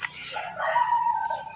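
A rooster crows in a backyard vegetable garden overgrown with weeds: a single drawn-out call over a steady high insect-like hum, moderately near.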